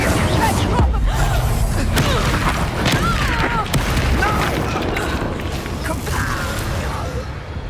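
Incendio fire spell cast in the Hogwarts Legacy video game, heard as heavy booming blasts over dense combat effects, with a player's voice running over much of the mix.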